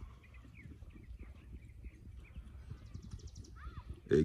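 A young horse on its first training day steps along with soft, irregular hoof thuds, accompanied by faint chirping birds and low background murmur, with a brief louder knock at the end.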